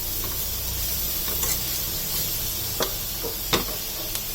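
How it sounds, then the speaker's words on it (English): Mixed vegetables with carrot and sliced capsicum sauté over a medium flame, giving a steady soft sizzling hiss with a few scattered clicks of a spatula against the pan. "Saute all the veggies for a few minutes in a medium flame."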